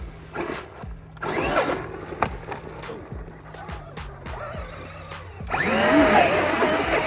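A Traxxas Maxx Slash RC truck on paddle tires whirs and screams in short bursts as its electric motor spins up on sand, with rising whines, gritty spray and people talking nearby.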